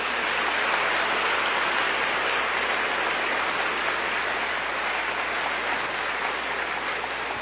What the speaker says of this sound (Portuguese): Aplausos sem eu pedir, aplausos sem eu pedir.